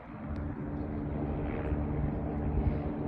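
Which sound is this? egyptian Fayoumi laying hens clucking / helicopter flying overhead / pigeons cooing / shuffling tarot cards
helicopter flying overhead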